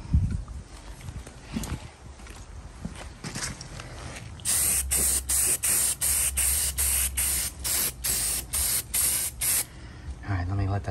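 A spray paint can hisses on and off while coats go onto a vintage Milwaukee impact gun, first under talking, then as a loud close run of about a dozen short, evenly paced bursts.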